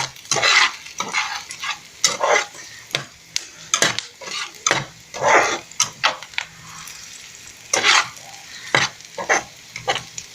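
Green chillies, two medium ones, fry in an oiled pan while being stirred for potato samosa filling, with repeated scraping and sizzling bursts, utensil clinks and short pauses, close and fairly loud, no talking.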